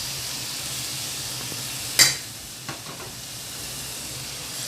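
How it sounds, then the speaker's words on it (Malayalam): Chopped tomato drops into an onion masala frying in a pan for fish pollichathu, giving a sharp burst of sizzle over a steady hiss, then a smaller clatter as frying continues. "അപ്പോൾ നമ്മളൊരു ചെറിയൊരു തക്കാളി അരിഞ്ഞത് ഇട്ട് കൊടുക്കാം."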